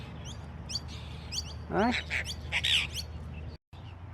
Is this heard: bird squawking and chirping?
yes